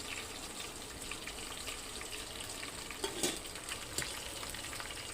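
Green chillies and curry leaves fry in a pan with a soft, constant sizzle and crackle, a few sharper pops and stirring scrapes breaking through near the end, heard close but fairly quiet.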